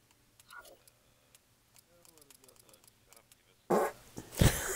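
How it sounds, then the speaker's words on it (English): A loud, raspy fart bursts out abruptly near the end, close to the mic, after quiet background voices and faint clicks during a Call of Duty session between an uncle and nephew. "You can hear that fucking fart clear as day."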